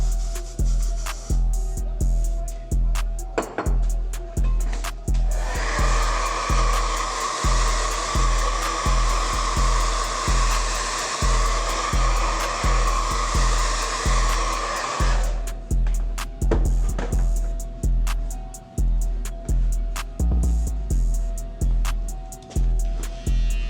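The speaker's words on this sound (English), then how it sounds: "we just about to hit this line with some of that and blow dry it" A blow dryer runs loudly for about ten seconds during a barbershop haircut, a steady rushing whoosh with a tonal hum, framed by rhythmic thumping music that continues before and after.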